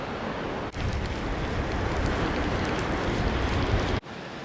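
Wind buffets the microphone on a winter beach on the Holderness Coast at Dimlington. It makes a loud, rumbling roar that holds steady for a few seconds between two brief dips.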